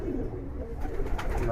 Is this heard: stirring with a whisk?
no